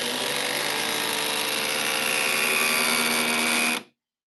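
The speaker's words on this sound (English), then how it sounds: "DeWalt, Milwaukee, hydraulic impact drivers." A DeWalt hydraulic impact driver runs a screw into wood, giving a loud, steady whirring drone with dense rapid hammering that lasts nearly four seconds, then stops abruptly into silence.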